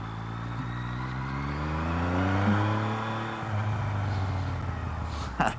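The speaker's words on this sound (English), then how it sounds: "That exhaust is just like perfect." A Yamaha XSR900 motorcycle fitted with an Akrapovič exhaust accelerates hard, its engine note climbing steadily through the gears as a loud, close, rising growl that eases slightly before a final blip, with no voices.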